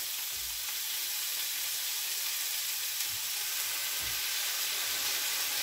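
Salty soy sauce goes into a hot pan of chicken filling for baked nems, raising a steady hiss and sizzle with a few soft low bumps, and no talking.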